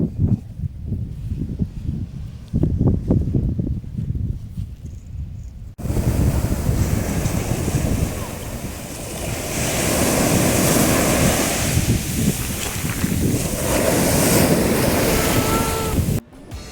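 Mediterranean Sea waves and wind on the Turkish coast roar in a dense, loud wash, with heavy wind buffeting; the sound shifts abruptly partway through, then continues as a steady surging hiss.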